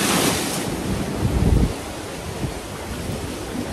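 Big sea waves rolling onto the shore, a loud roaring wash that swells around the middle and then settles into a steady surge, with heavy wind buffeting the microphone.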